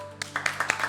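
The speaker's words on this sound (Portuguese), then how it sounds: "Uma salva de palmas para a Ariela." An audience claps in applause during a Portuguese-language show, several quick scattered claps over barely a second, close and moderately loud with a faint background tone.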